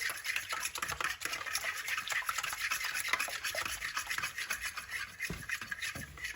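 Eggs and milk whisked together for bread samosa batter, a steady scraping, rubbing stir with continuous close strokes and no voices.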